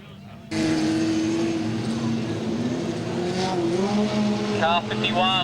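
Modified production cars race at Maryborough Speedway, several engines roaring loudly and continuously close by as a pack passes, with brief tyre squeal, while a commentator talks over the noise.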